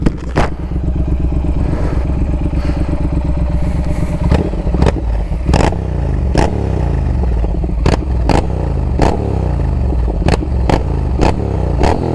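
A Triumph Speed Twin 1200 motorcycle engine idles with a deep rumble, then gets blipped in a series of sharp revs and pops, loud and close.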